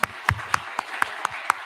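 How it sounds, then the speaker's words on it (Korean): Brief applause from a church congregation during a Sunday morning service, welcoming a pastor's wife and two daughters: a handful of sparse, evenly spaced claps rather than a full ovation, moderately distant and fairly quiet. "우리 위로와 격려의 박수 하겠습니다."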